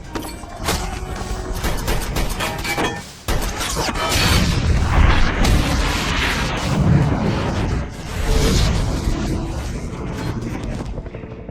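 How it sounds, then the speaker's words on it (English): Gunfire and a massive explosion from an action movie prison-escape scene, with the warden's men caught in flames near a fleeing helicopter; loud sustained rumbling blasts and crackle fill most of the clip after a brief pause, with no talk. "triggering a massive explosion that engulfs the warden and his men in flames"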